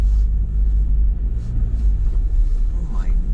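Car driving on narrow roads in the Scottish Highlands, heavy low engine and road rumble dominating the cabin, steady and close, with a faint wash from passing through puddles and little else above it.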